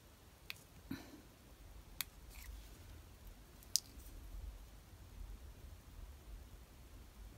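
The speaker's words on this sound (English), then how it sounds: "So I'm just going to snip those out, held in by pips" Small scissors snip out pieces held in by pips, giving a few faint, sharp isolated clicks over a quiet, hissy background with no talking.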